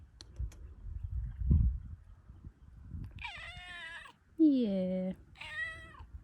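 A cat meows three times, drawn-out and close, after some quiet rustling and a brief spoken word.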